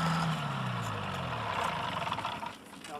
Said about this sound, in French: ça, même au sol, son moteur il roule